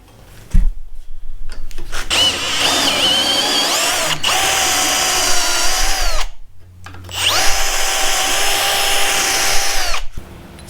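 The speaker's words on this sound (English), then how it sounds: "I'm drill pressing this one." A drill press bores into a metal part for a Toyota Tacoma solid axle swap build. It makes two long, loud grinding runs with a short pause between them, and no one speaks.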